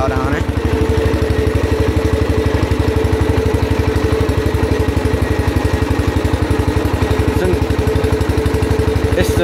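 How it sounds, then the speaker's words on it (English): An old tractor engine runs steadily and lugs under load, a loud, close, rapid mechanical thumping that holds an even rhythm throughout with no talk. "This one is one lugging old tractor."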